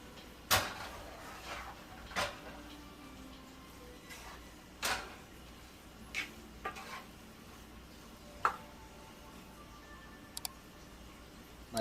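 Vegetarian jambalaya being stirred in a pot on a low stove, a spoon scraping and knocking against the pot in scattered strokes every second or two over a faint low sizzle, with no talking.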